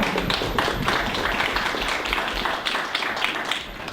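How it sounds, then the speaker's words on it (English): A meetup audience claps in a steady, dense round of applause to welcome a speaker giving a talk on what's new in mobile, the clapping continuous and fairly loud throughout with no break. "Round of applause."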